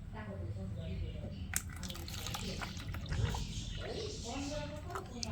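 Water trickles and splashes into a small Arduino-built prepaid smart toilet model, a soft running pour lasting a few seconds, faint and close, with someone talking quietly over it.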